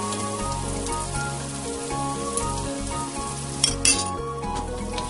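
Prawn biriyani, Malabar style, is stirred in a pan over a continuous sizzle. Low tonal music sits underneath, and a couple of louder utensil clatters come near the end.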